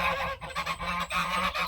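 Three geese honk loudly and near in repeated harsh calls while being shut into a poultry tractor, their guarding trio clamouring almost without pause.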